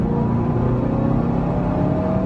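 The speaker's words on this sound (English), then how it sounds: "Once you hear the supercharger coming in, then you have to be ready for some really quite serious acceleration" A supercharged Cadillac CTS-V accelerates hard around Cadwell Park, heard from inside as a loud, unbroken engine drone with a sustained whine.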